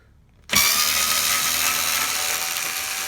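A power drill spins up abruptly after a short silence to back out the last screw holding a closet section inside an Airstream trailer, then whines steadily and loudly at close range.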